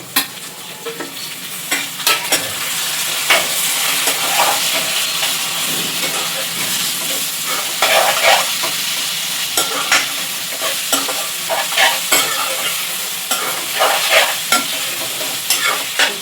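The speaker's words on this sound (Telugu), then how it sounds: "ఇప్పుడు టమాటా వేసుకోవాలి" Tomatoes with onions and green chillies fry loudly in a pan for a spinach and tomato curry. A continuous close sizzle and hiss is broken by repeated scraping stirs of a spoon against the pan.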